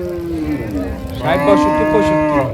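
An Australian Friesian heifer lows at a cattle market in Gazipur with one long, loud moo close by, its pitch rising and swelling partway through before trailing off.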